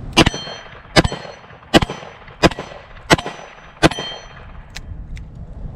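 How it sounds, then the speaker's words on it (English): Six .38 Special revolver shots fired at an MGM steel gong target, each a sharp report with a ringing metallic clang, evenly spaced in a steady rhythm, followed by two fainter pings as the plate settles. "next round, let's go for the MGM gong here"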